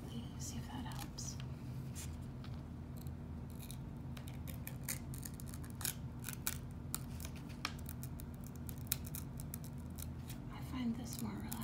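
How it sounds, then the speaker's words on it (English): A glossy fashion magazine page is torn out slowly and quietly, producing soft, drawn-out crinkling rips with occasional sharper tears over a steady low hum. "Let's see if I can rip a little more quietly, see if that helps."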